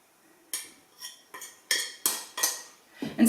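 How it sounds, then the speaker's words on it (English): A pastry blender strikes against a bowl while cutting butter into flour, giving about seven sharp metallic taps at an irregular pace, close and alone. "I'm going to use a pastry blender to work this up, so with that I will just stir it"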